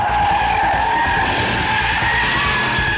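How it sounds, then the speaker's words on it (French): Porsche Cayenne Turbo driven hard on a race circuit, a loud continuous engine roar with sustained tire squeal and skidding, steady and close throughout with no speech. "Sur circuit, nous avons malmené la version la plus puissante du Cayenne."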